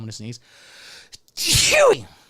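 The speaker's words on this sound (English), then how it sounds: "Oh, I'm going to sneeze." A single loud, close sneeze bursts out after a short spoken lead-in and a quiet pause, with a sharp inhaled build-up and a forceful, noisy release.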